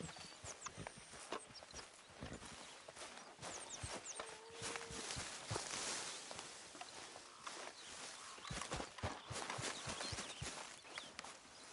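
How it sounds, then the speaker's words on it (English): Horse hooves clip-clopping on the ground in the video game Red Dead Redemption 2, a run of close, uneven thuds over ambient game noise. "Hey, get that horse out of here."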